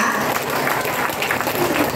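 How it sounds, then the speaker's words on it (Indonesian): An audience claps for a visiting CEO of KHL at an event in Bandar Lampung, with dense, steady applause filling the room for two seconds and faint voices underneath. "Oke, tepuk tangan buat Mr. King-nya Bapak Ibu semuanya sangat luar biasa"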